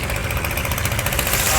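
A small fishing boat's engine chugs on the Meghna river, a steady close idling throb with a mechanical knock, heard briefly and alone.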